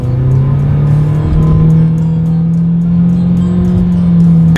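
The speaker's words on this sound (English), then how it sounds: "We'll see how quickly we can get the new 2019 Sentra up to speed." A 2019 Nissan Sentra with a naturally aspirated four-cylinder accelerates in a loud, steady drone from inside the car, its engine note climbing slowly under road rumble.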